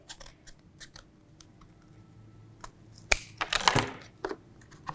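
Scissors snip double-sided tape during kanun building, giving several sharp close clicks and then a brief cluster of louder cutting and crinkling sounds, with no talking.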